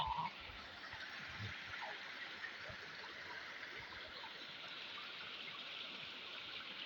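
The Chandan Jharana stream babbles among rocky hills, heard as a faint, even wash of flowing water, steady and unbroken with a few soft splashes.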